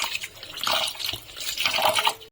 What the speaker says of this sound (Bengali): ভালো করে পরিষ্কার জল দিয়ে ধুয়ে নেবো